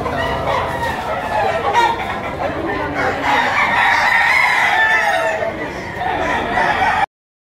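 Roosters crowing and hens clucking loudly and close by at a poultry auction market in Lipa City, Philippines, a busy, continuous flock chorus throughout.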